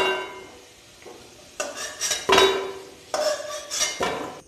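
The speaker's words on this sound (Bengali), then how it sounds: "এবার আমি আলুগুলোকে তুলে নেব।" Fried potatoes lifted out of a hot pan, with bursts of metal utensil scraping and clinking against the pan over a faint sizzle, arriving in several separate clusters.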